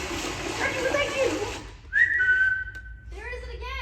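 Splashy noise gives way to a clear whistled tone that rises and holds, followed by a short warbling whistle phrase, close and distinct.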